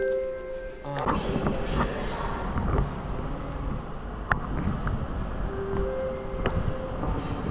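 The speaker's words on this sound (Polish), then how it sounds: "To jest pociąg do Krakowa." A train bound for Kraków at a Warsaw station, with a steady low rumble of the rail cars under platform noise and occasional sharp clanks and squeals.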